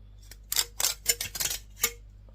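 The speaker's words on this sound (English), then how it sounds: "just try and get the nail in and peel it off just like a sticker" Sticker being peeled by fingernail from a Samsung laptop casing during scrapping: a series of short, bright crackly tearing bursts in uneven rhythm, close and fairly quiet, with no voices.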